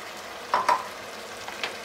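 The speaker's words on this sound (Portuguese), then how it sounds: "E vou deixar refogar um pouquinho para evaporar o vinho." Wine poured into a sizzling sauté for monkfish rice makes a soft, steady sizzle, with a few sharper bursts of spitting and stirring partway through and no voices.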